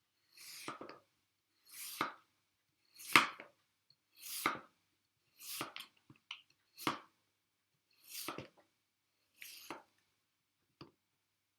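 Knife slicing through a thick potato on a cutting board, about nine crisp, evenly spaced chops that are close and clear, with silence between the cuts.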